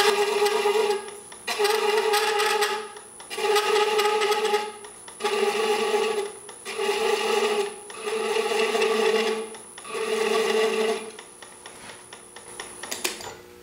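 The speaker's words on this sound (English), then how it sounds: "let's do a little bit of thread chasing" A 16 TPI thread chaser cuts threads into a Mopani wood hollow form spinning on a lathe at about 270 RPM, giving six steady rasping passes of around a second each, separated by short pauses, close and loud.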